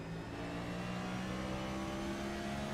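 A race car engine heard from inside the car in the iRacing video game at Daytona, a loud sustained droning whine with steady harmonic tones and no talk.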